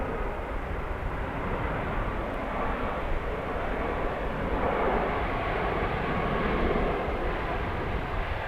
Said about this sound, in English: WestJet Max.